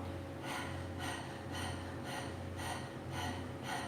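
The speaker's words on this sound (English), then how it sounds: "listen to the sound of the breath. Notice that I'm hearing my inhale and my exhale" Breath of Fire breathing exercise: rapid, rhythmic forceful breaths, about seven evenly spaced puffs of air in four seconds, close and clear over a faint background hum.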